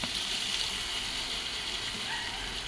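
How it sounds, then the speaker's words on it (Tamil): Steady rushing water pours continuously into a pan of chicken liver pepper masala, a broad even splashing hiss with no pauses. "இதுக்கு கொஞ்சம் தேவையான அளவு தண்ணி ஊற்றிக்கலாம்"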